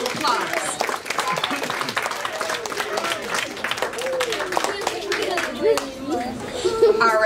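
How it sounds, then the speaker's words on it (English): Round of applause for young performers at a lesson, lively clapping from a small audience mixed with chatter and children's voices, fairly close and continuing throughout. "Let's give them a round of applause"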